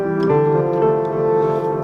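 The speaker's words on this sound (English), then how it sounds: "it's kind of like a marimba sound" A marimba-like filtered synth in FL Studio plays a mellow chord pattern with soft mallet-style attacks, loud and close with no voices, from a beat.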